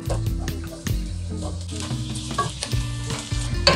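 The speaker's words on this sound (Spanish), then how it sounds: "Ahora vamos a incorporar el brócoli." Broccoli is stirred into potato and onion sautéing in a pan, a sizzle layered with repeated spoon scrapes and knocks against the pan at an uneven rhythm.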